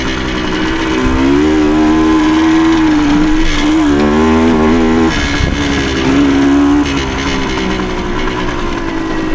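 A small 1975 Suzuki TS125 Duster dirt bike with a 125cc engine putters along trails, its loud, steady two-stroke drone rising and falling in pitch as the rider eases on and off the throttle.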